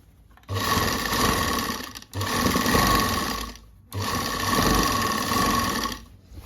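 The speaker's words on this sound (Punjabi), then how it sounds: "ਥੋੜੀ ਜਿਹੀ ਮਸ਼ੀਨ ਪਹਿਲਾਂ ਆਪਾਂ ਖਾਲੀ ਚਲਾਉਣੀ ਹੈ" Sewing machine running while stitching a lined suit, three sustained bursts of motor whir and needle clatter separated by brief pauses, close and fairly loud, no voices.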